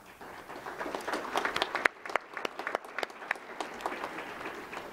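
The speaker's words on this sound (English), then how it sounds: "we'd love to give you some applause" An awards-ceremony audience applauds sponsors with a dense patter of many hands clapping, fairly close and moderately loud, with a brief dip in the middle before the clapping picks back up.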